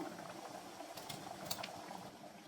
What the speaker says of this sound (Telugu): పెసరపప్పు బెల్లం వేసుకున్నాం కదా, ఇలా ఉడుకుతూ ఉంది.